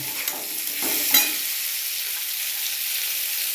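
Turmeric, salt and chilli sizzle in a hot pan while being stirred in a home kitchen, giving a steady bright frying hiss with a few scraping stir strokes early on.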